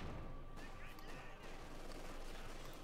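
A grenade explosion and surrounding battle noise from the Company of Heroes 2 video game: a dense, continuous rumble of blasts and gunfire with a faint voice underneath.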